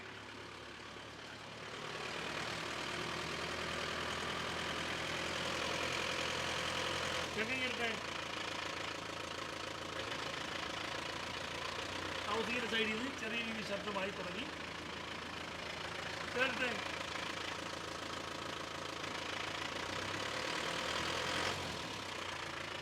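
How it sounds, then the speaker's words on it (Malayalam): A car engine runs in first gear under load, a steady mid-pitched drone that rises and swells slightly over about twenty seconds, heard from inside the car with faint voices and small rattles. "നമ്മളെ വണ്ടി ഫസ്റ്റ് ഗിയർ ഇട്ട് ഒന്ന് കറക്കാൻ പോവുകയാണ് അപ്പം കേൾക്കുന്ന ശബ്ദം എങ്ങനെയാണെന്ന് നോക്കണം"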